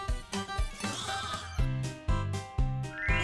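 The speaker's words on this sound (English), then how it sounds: "What sound does a sheep make?" A sheep's bleat in a children's word-learning cartoon, several short baa calls in a repeating rhythm, loud and close and heard on their own.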